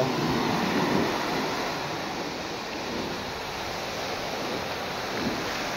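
Strong ocean waves surge and crash against a rocky shore, a loud continuous wash of surf with swelling breaks and gusty wind buffeting the microphone, with no voices.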